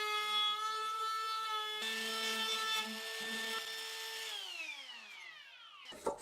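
A power tool rounds over the corners of a wooden jewelry box, giving a loud, steady, high-pitched whine under cutting noise that holds for several seconds, then winds down in pitch and ends with a brief knock.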